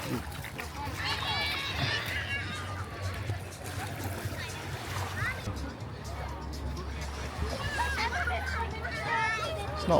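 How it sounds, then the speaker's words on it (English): A busy, popular beach crowd murmurs at a distance, with overlapping voices and shouts mixed with gentle water splashes and a low steady background hum. "So loads of sun lounges. Very busy beach. Very popular."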